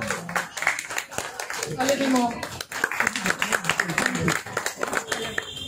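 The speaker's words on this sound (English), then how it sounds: "Give me a round of applause" An audience at a drag therapy workshop claps and applauds after the first lip sync battle, the sharp scattered claps mixing with a speaking voice that continues over them.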